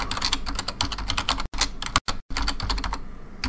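Rapid typing on a computer keyboard while entering C++ code, a dense run of close, crisp key clicks with two brief pauses partway through.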